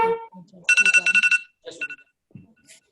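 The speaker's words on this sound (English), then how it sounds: "All right, so that was the timer." A workout interval timer goes off during a kettlebell class, a bright electronic ringing in a quick burst of repeated pulses, with voices talking just before and after it.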